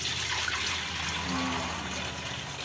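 Steady rushing water flows without a break into a large pot, like water running from a tap, with faint sounds in the background.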